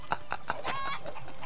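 Chickens in the Gothic 3 Götterdämmerung game clucking in a quick series of sharp, close calls, several short clucks followed by a longer squawk, with no talking.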